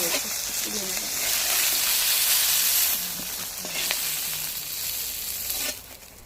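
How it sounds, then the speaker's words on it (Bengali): Leafy greens frying in hot oil in a wok give a loud, steady sizzle and hiss that swells and eases with a few stirring knocks, with no talking. "সেই তেল সেইখানে আর একটু তেল দিয়ে দেবো দিয়ে শাকগুলো ভেজে নেব"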